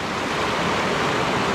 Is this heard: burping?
no